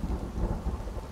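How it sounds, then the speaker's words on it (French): Rain and rolling thunder from the video game Sons Of The Forest, a steady dense rush of rainfall with low rumbling throughout, no voices. "Mais ouais, à chaque fois il pleut."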